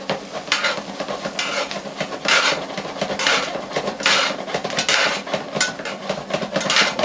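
Brussels sprouts tossed and shaken in a hot pan, a series of sizzling bursts and scraping rattles every second or so, close and fairly loud with no talking.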